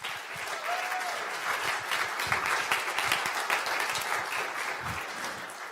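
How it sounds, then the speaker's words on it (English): An audience at a design awards event applauds the nominees, a lively burst of clapping from a modest crowd that continues steadily throughout. "can I have a big round of applause for the 10 nominees?"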